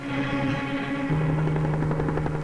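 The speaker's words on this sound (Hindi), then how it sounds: "ये हेलीकॉप्टर, ये लगता है उधर ही जा रहा है।" Helicopter flying overhead, its rotor and engine producing a loud, continuous droning hum with a steady pulsing beat that shifts pitch partway through, heard alone without speech.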